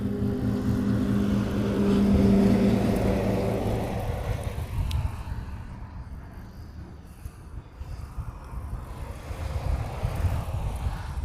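Hawaiian Airlines airliner in older livery moving on the ground or overhead in Hawaii, a steady loud low engine roar that swells in the first seconds, then settles into a broad rumble with no talking.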